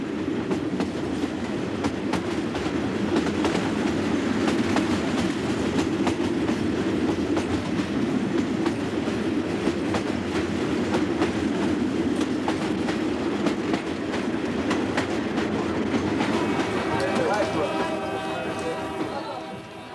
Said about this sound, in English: The train is always full because it's the only way of crossing the country.